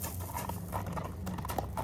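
A black horse for sale clip-clops at close range, a quick patter of hoofbeats over a noisy, rumbling outdoor background, with no voices.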